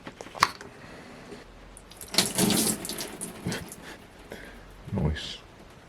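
Engine coolant from a Yamaha WR250F radiator splashes onto a floor in uneven gushes and trickles, with a few stronger bursts and some voice-like sounds mixed in.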